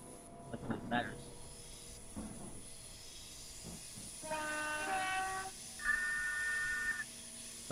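A train in Train Simulator 2018 on the London to Faversham route runs with a quiet hum and hiss, broken by two separate horn blasts near the end, while a voice talks over it.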